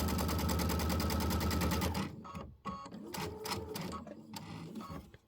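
Sewing machine with a dual feed foot stitching fabric along a black flange, a rapid, even mechanical chatter for about two seconds, then short bursts of stitching and clicks as it stops and starts.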